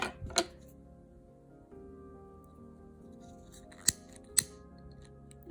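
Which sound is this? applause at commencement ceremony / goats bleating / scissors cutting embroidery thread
scissors cutting embroidery thread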